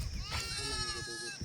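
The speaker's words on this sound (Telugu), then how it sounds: "అన్నీ మేక పిల్లలు ఉన్నాయి, ఉన్నాయి పెద్దవి కూడా" Goats, both kids and grown animals, bleat at a village fair's goat market, with a drawn-out cry over steady crowd chatter and nearby voices.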